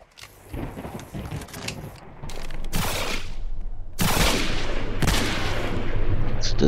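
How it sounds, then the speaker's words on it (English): Sniper rifle gunfire in the Roblox Area 51 video game: a few loud sharp cracks and booming blasts, one near the start of the loud stretch and two more spaced about a second apart, over steady game noise. "It's the sniper rifle."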